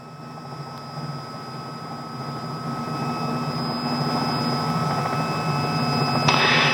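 A Robinson R66 helicopter hovering, its turbine whine and rotor drone forming a steady loud hum that slowly builds, with a brief hiss of wind or static near the end.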